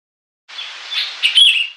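A sooty-headed bulbul, or kutilang, sings a single short phrase of bright, bubbling chirps that rise toward the end, clear and close against silence.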